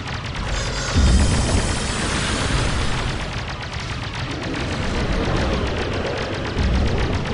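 Grenade blasts in the online game SWG Legends: loud, heavy booms with rumbling tails that overlap into a continuous, close wall of explosive noise, swelling again near the start and the end.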